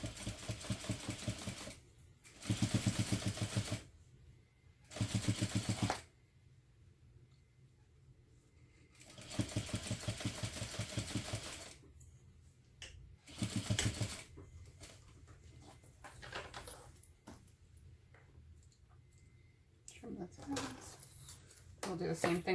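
A sewing machine stitches a backpack lining with a 1/8 inch seam allowance in short bursts of rapid, even needle chatter separated by quiet pauses, with handling sounds and a voice speaking between runs.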